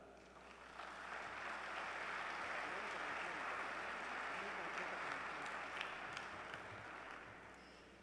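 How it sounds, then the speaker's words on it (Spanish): An audience at a Mexican education conference for religious superiors gives a steady welcoming applause that swells in after a moment and holds evenly for several seconds before tapering off. "La recibimos con un aplauso."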